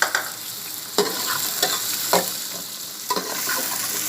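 Chicken and okra fry in a pan with a bright continuous sizzle, while a spoon stirs and scrapes against the metal in several sharp, evenly spaced knocks, close up and without speech.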